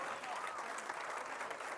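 Audience applause for a cyclist at a cycling challenge prize giving in Namibia, a continuous, fairly faint patter of clapping from the crowd.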